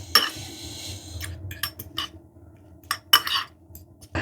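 A spoon stirring chimichurri with red wine vinegar in a bowl, giving quick clinks and scrapes against the sides in short bursts with quiet pauses between, close by and without talk.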